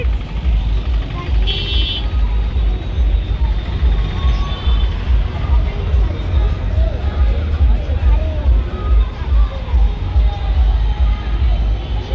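A large outdoor crowd gathered for a Gautami Patil show: a steady, dense hubbub of many voices and movement with some traffic noise, loud and continuous throughout.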